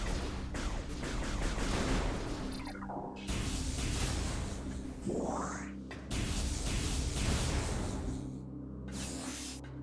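Missile shots in Metroid Prime Remastered, a steady barrage of blasts and whooshing launches repeating through the scene, with a rising sweep midway and a thick low rumble underneath.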